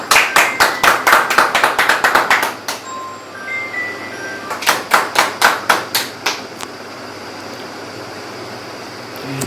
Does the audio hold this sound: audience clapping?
yes